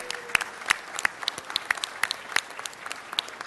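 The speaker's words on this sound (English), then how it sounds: "Let's give them a big round of applause for all their creativity." Audience applause at a city council meeting, sparse clapping from a modest crowd with distinct individual claps standing out over a soft wash of quieter hands.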